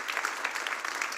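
A church congregation claps together in steady, dense applause, a continuous patter of many hands at moderate volume.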